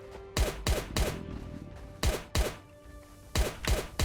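Automatic gunfire in the survival video game Last Day On Earth, loud close bursts of rapid double and triple shots with short pauses between them, no talking.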